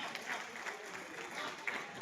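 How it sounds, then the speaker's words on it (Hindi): An audience at an Urdu mushaira poetry gathering claps steadily, a dense spread of hands with a few sharper claps standing out near the end. "जोरदार तालियों से इस्तकबाल फरमाएं।"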